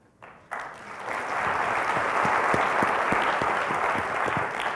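Applause from an audience at a college State of the College address, starting abruptly after a brief quiet moment and holding as a steady, dense wash of clapping with a few sharper claps standing out.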